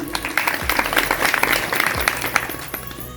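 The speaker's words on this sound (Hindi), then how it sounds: "मैं चाहूंगा एक जोरदार तालियों से अभिनंदन उनके लिए" Loud, dense applause from a village audience at a women's self-help group gathering, steady clapping throughout with a few low thumps.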